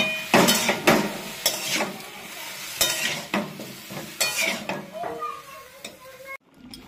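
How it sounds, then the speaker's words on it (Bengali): Spinach and cabbage fry together in a pan during a picnic cook-up, with repeated loud scraping stirs and clanks of the spatula over a low sizzle. A voice is heard briefly alongside. "সবগুলো একসাথে ভেজে নিব একটু"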